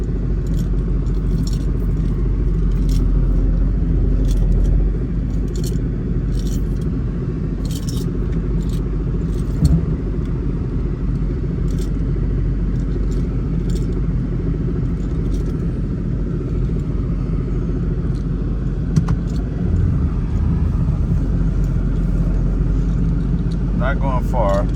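A Mercedes SL500 on a short drive, heard from inside the cabin as a steady low road and engine rumble with faint rattles and small clinks, while a voice speaks over it.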